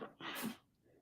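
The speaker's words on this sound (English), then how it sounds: "He's sneezing." A single sharp sneeze, a quick intake followed by a bright burst of breath, close and fairly quiet.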